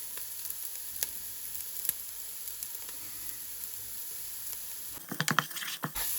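Grated carrot sautéing in a pan with salt and spices for a prawn puttu biryani: a steady, quiet sizzle throughout, broken near the end by a few louder stirring scrapes.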